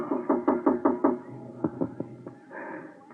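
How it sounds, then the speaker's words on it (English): Knocking on a door in an old-time radio drama: a quick run of six firm raps, then a few slower, softer knocks, close and with no voices. "There was a knock on my door."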